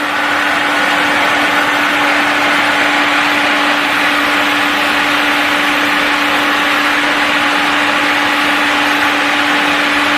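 A steady, loud whirring hum runs without a break, like an Informa electric stove at 800 watts heating water toward a boil, with no voices.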